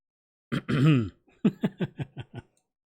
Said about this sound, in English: I had to clear my throat again